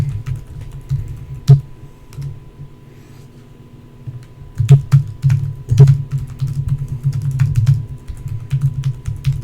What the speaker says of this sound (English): What are you furiously typing away at?